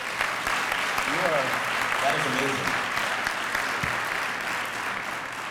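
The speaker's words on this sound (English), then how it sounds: "Can we have one more round of applause for this young lady?" A breakfast crowd at a college scholarship event gives a young woman a steady round of applause that carries on with a few brief spoken words and scattered voices underneath.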